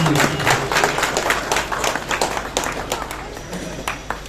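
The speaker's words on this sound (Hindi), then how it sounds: "इनका भी जोरदार तालियां।" An audience claps for a student being honored at an Independence Day foundation event, a steady wash of many hands with scattered sharper claps, fairly near and lasting the whole stretch.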